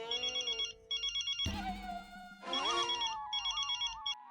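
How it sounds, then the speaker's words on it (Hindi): A telephone bell rings in repeated short bursts, loud and close, broken up midway by brief louder musical swells before the ringing resumes. "किसका फोन था?"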